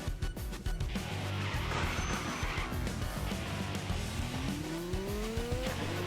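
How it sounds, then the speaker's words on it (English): Race car sounds from Tokyo Xtreme Racer, an engine droning with tire squeal and a rising high-pitched squeak like braking, continuous and moderately loud with no talking. "Is it me, or are those brakes a bit squeaky?"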